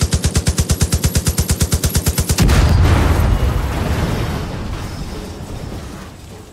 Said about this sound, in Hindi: मैं तो बंदूक से मार दूंगा इसको